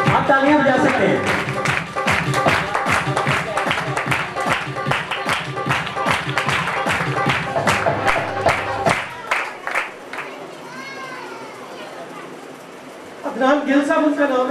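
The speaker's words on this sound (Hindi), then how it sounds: "आप तालियां बजा सकते हैं।" Audience applause at a Christian gospel theatre event marking independence, with dense rhythmic clapping for about nine seconds that fades into quieter crowd sound and murmuring before a brief burst of clapping returns.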